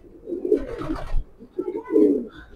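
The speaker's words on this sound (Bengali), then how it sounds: "অনেক সুন্দর মাশাআল্লাহ কবুতরটা।" A light-coloured Mili racer pigeon coos twice nearby, each a short throaty rolling phrase with a brief pause between, with no talk over it.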